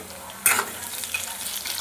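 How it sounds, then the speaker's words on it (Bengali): Chopped onions with a pinch of salt fry in a hot pan until browned, a steady soft sizzle that jumps into a louder crackling hiss about halfway through, then stays busy and close with no voices. "পেঁয়াজটা ভালোভাবে ভেজে নেব লাল লাল করে"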